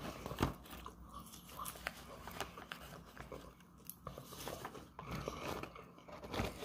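Fresh Wendy's fries being eaten close up: quiet bites and soft crunches with moist chewing, irregular and intimate, with no talking.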